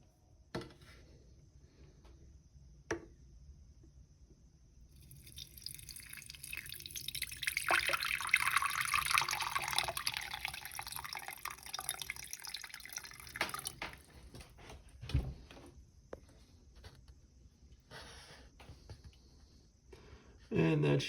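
Water is poured into a Phalaenopsis orchid pot, a faint trickle building to a fuller splashing fill in the middle, then scattered drips and small knocks near the end.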